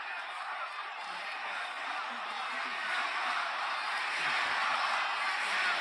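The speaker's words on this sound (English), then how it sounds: "Oh, they cheering for CM Punk." Wrestling crowd at a WWE Raw event cheering for CM Punk, a steady wall of arena noise holding loud and even, swelling slightly toward the end, heard alone.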